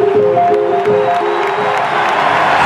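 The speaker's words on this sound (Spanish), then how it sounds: "Le aplauden. Lo apoyan." Baseball stadium crowd at a major league game applauding and cheering in a broad, steady roar, with a few horn-like tones early on and no talk over it.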